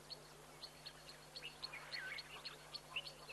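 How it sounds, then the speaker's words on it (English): Birds calling at an African waterhole, a series of thin, high chirps and short whistles repeating every fraction of a second, faint against a low steady background hum. "So you hear lots and lots of bird life around here."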